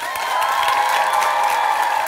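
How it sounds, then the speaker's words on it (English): A theatre audience at a Matilda the Musical performance applauds, a dense, steady wash of clapping that holds at an even level throughout without any speech. "Give yourselves a massive round of applause."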